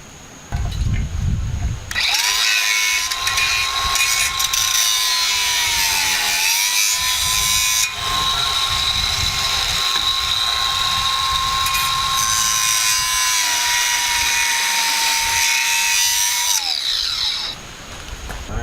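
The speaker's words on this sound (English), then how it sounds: "I'm going to take my grinder and see if I can grind the metal a little bit" An angle grinder grinds metal on a damaged box blade, a loud, steady high-pitched whine that holds for about fifteen seconds with a brief dip midway, then spins down.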